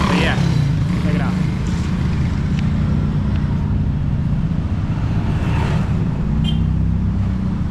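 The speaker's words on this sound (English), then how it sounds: "Lots and lots of traffic." Dense traffic rumbles steadily through a busy street in Ubud, Bali, with cars and motorbikes droning constantly at close range and a voice talking over the din.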